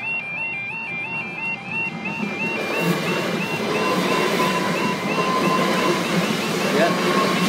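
A passenger train, two Class 377 units coupled together, rushes past a level crossing with a steady roar and rattling wheels; the crossing's warning bell rings repeatedly at first, then fades under the passing cars.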